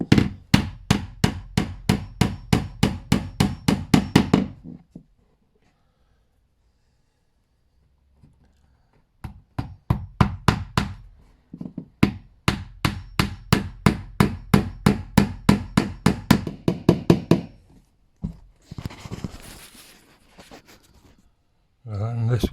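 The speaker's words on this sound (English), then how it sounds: "Works with your hammer sometimes as well." Hammer tapping small pins to fit the glass into a stair door: long runs of quick, evenly spaced close taps, broken by short pauses and a few quieter handling noises.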